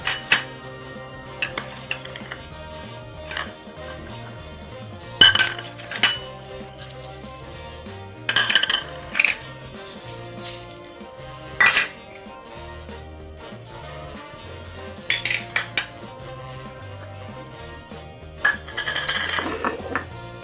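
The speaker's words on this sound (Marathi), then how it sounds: "आता हे साहित्य आपण ठेचून घ्यायचं आहे." Vada pav ingredients being crushed into a coarse paste, sparse sharp metallic clinks and knocks in irregular bursts against a quiet background, with long gaps between strikes.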